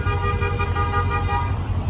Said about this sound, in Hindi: और कोई हॉर्न दे रहा